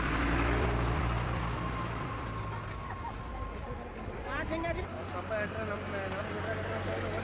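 A bus pulling in at Ranebennur bus stand, its engine a low rumbling drone beneath crowd murmur, with a brief squeal midway and the idle settling into a steady low hum as it stops.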